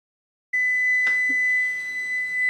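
A kitchen timer sounds during stovetop cooking of cilantro lime rice. It gives a steady, continuous high electronic beep that starts abruptly and holds clearly with no voices.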